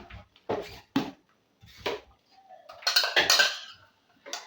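A spoon scrapes and clinks against a pot as crayfish and ogiri are stirred into ogbono soup, giving several short metallic knocks and a longer scraping burst, close and fairly loud.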